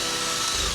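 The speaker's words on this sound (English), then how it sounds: "these holes are a little bit too small, so we're going to have to drill those out" A power drill bores out small holes on an E36 car during a brake line and hydraulic e-brake install, giving a loud, steady whining grind throughout the brief moment.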